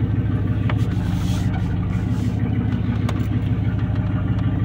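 A 1994 Chevy truck with a swapped 454 engine runs steadily at a low, continuous rumble throughout, heard close and alone with no talking.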